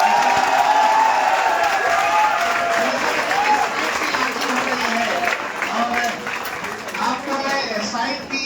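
Loud, sustained applause from a crowd celebrating a website launch, running steadily for the whole stretch with some cheering mixed in and voices murmuring underneath.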